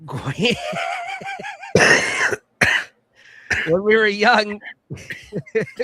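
Someone coughs a few times in short, harsh bursts between stretches of nearby talking and throat noises.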